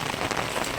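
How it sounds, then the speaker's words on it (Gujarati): Heavy rain pours steadily onto a surface in a dense, continuous hiss with scattered drop impacts, loud and close throughout, with no voices. "વરસાદ બહુ પડે છે"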